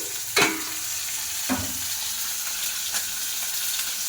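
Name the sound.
curry with eggplant, tomato and khoira fish cooking on high gas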